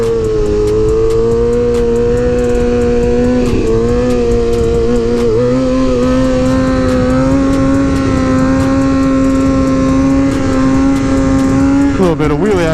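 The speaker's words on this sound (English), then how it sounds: "A little bit of wheelie action for you, huh?" A motorcycle engine revs hard and steadily through a wheelie, its loud, continuous whine bending in pitch as the throttle shifts, then dipping sharply near the end.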